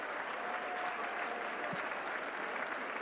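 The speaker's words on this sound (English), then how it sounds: "The crowd comes to their feet to give these guys a standing O" A basketball crowd at an all-star game rises for a standing ovation, steady dense applause filling the whole stretch, somewhat distant and even in level.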